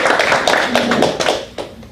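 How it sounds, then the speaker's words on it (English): A small club meeting audience, started by a single person, breaks into scattered hand clapping that swells into steady close applause over about two seconds. "just start clapping and somebody else will join in"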